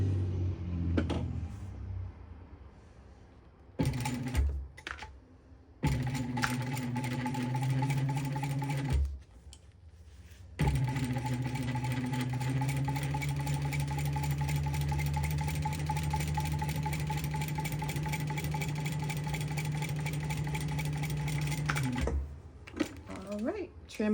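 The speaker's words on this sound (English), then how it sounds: "now we are going to top stitch across this edge at 1/8 of an inch seam allowance" Sewing machine topstitching along a fabric edge at a 1/8 inch seam allowance: a steady, close mechanical whir running for about eleven seconds, after a few short stop-start bursts.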